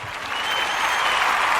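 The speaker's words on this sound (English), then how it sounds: "Give a round of applause" An audience applauds to welcome a guest on a podcast, a broad, continuous patter of clapping that swells slightly and stays loud throughout.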